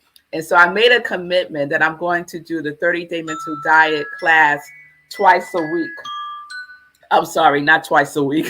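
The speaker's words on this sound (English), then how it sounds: "That's my alarm going off telling me to wrap it up" A phone alarm sounds in a short run of stepped electronic chime tones, moderately loud, under and between a person speaking in a spoken morning talk.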